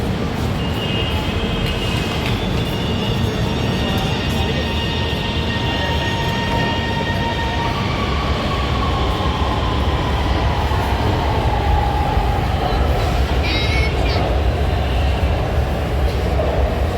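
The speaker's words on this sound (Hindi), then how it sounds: "ट्रेन चली गई।" Orange Line metro train pulling away from a station platform in Lahore, a steady loud rolling rumble with rising whine and rail hum throughout, close by.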